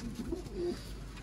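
Cooing of a Sialkoti pigeon, a soft low two-part coo repeated twice in quick succession, close by with a faint hum of background noise.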